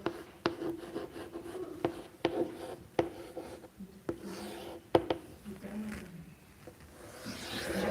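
Pen or chalk writing numbers by hand during a maths lesson, with sharp taps and scratchy strokes recurring irregularly up close, with occasional quiet speech alongside.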